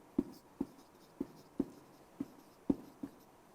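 Pen strokes writing out a date on paper, a series of about seven distinct tapping scratches at an uneven steady rhythm, close and fairly quiet with no speech.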